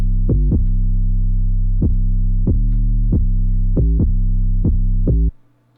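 A rap-style 808 beat built in FL Studio, with deep booming 808 bass notes and sharp percussive hits in a bouncing, uneven rhythm, loud and close, stopping abruptly near the end.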